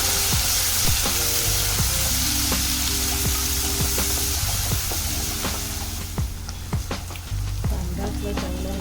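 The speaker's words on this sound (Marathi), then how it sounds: "कांदा आपला चांगला भाजतोय" Chopped onion fries steadily in a pan, a dense continuous sizzle with occasional stirring clicks and scrapes, close and fairly loud throughout.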